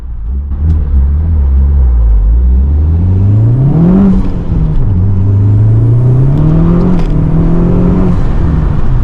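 A VW Golf MK4 1.8T with an uprated fuel pump accelerates hard from a standstill, the engine note climbing loudly through the gears with a brief dip at the shift, heard close from inside the car.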